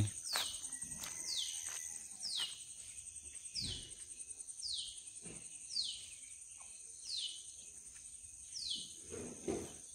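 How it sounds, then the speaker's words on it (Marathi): Faint, repeated descending sparrow calls sound at a steady rhythm over a constant high insect-like drone, with occasional soft knocks, in a harvested rice field. "चिमणी ओरडते."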